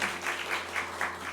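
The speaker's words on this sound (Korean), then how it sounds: "네, 박수 부탁드립니다." A congregation applauding at a church discipleship class graduation ceremony, a short, faint burst of steady clapping in a reverberant hall.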